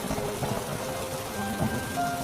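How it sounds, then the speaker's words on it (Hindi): Heavy rain falls in a steady, soft wash of noise. It stays fairly quiet throughout, with a few faint tones and sounds mixed in. "हे भगवान, एकदम से इतनी तेज बारिश।"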